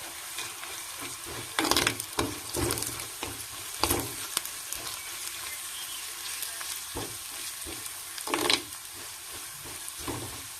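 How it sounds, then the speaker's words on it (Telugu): Ivy gourds sizzle in a clay pot while a spoon stirs them, giving bursts of louder scraping and clattering over a steady frying hiss, close up and without voices. "చూడండి దొండకాయలు అయితే ఇలా వేగుతున్నాయి"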